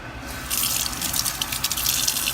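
Tap water pours into a sink while chile seeds are scraped out underwater for chile rellenos; the flow starts abruptly after a brief quiet moment and keeps up as a steady splashing gush.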